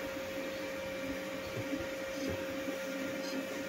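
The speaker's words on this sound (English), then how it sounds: "It was still printing a base like you see now." An Anycubic Kobra 3 Max 3D printer printing a base gives a steady mechanical whir and hum, with faint motor movements, close and continuous throughout.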